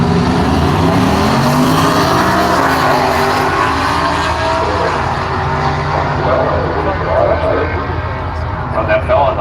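A 50-year-old Ford F-150 pickup truck drag races a Dodge Challenger at a street truck event, their engines roaring loud and steady throughout, with an announcer talking over the noise.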